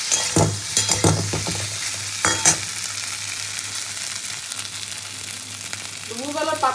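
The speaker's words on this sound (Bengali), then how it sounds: "হালকা একটু জল দিয়ে এটাকে আমি ভেজে দেবো" Boiled taro fries in a pan with a little water, a continuous close sizzle with several scraping stirs early on, then a quieter stretch and a brief voice at the end.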